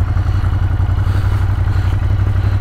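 A Ducati Monster 1200 motorcycle engine drones steadily while riding, a low, even rumble with faint clatter and wind, no voices.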